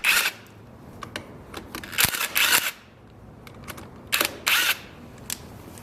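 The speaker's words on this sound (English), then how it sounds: "Use a socket wrench to remove the 4 front fender mounting bolts on the lower triple clamp." Socket wrench removing the front fender mounting bolts from the lower triple clamp of a Honda CB250F motorcycle, heard as close bursts of sharp ratcheting clicks in several short runs separated by quieter pauses.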